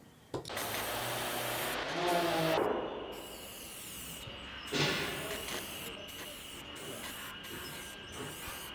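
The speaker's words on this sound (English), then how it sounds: "I moved on to spraying sealer and Nitro Cellulose lacquer." Sealer and nitrocellulose lacquer sprayed onto a semi-hollow ES-335-style bass body: a steady airy hiss runs throughout, with brief pauses between bursts and a louder spray pulse near the middle, close to the listener.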